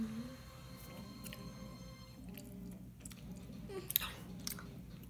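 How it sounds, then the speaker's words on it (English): Someone chews Jelly Belly Soda Pop Shoppe jelly beans close up, with soft, wet, irregular squishing and a few crisper bites over a quiet steady hum. "Just endless hours of me chewing."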